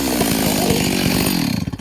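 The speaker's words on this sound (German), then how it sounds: "wie sie hier mit der Kettensäge zersägt wird" A chainsaw cuts in a loud, close, buzzing drone in an animated cartoon, its engine pitch sagging slightly as it bites through the material, then sputtering unevenly in the last moments.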